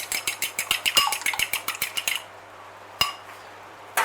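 An egg beaten with a whisk in a bowl: a quick, even run of about a dozen light clinks lasts two seconds, then a pause and one last tap against the bowl.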